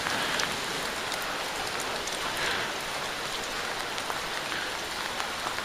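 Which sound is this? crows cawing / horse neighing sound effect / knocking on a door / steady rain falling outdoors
steady rain falling outdoors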